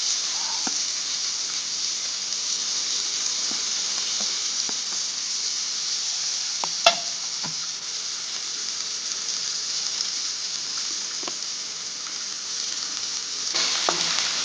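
Onion and finely chopped potato sizzle steadily in a hot pan, with occasional scrapes and taps as they are stirred.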